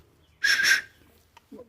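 Small bird-shaped souvenir whistle with a brass top blown once, a short shrill tone lasting under half a second, close and clear, followed by a faint soft sound.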